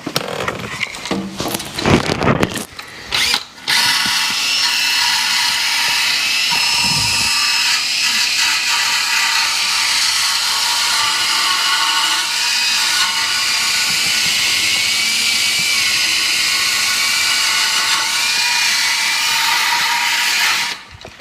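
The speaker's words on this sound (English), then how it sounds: "Next best choice is going to be just a drill with a wire wheel" A drill spinning a wire wheel grinds rust off a Chevy Equinox muffler, a loud, steady, continuous whir-and-scratch running nearly the whole time after a few rough starts at the beginning.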